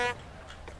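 A short, nasal honk at the start, loud and brassy like a toy horn, followed by faint background noise and soft distant sounds. A horse-drawn carriage horn in the video game Anno 1800.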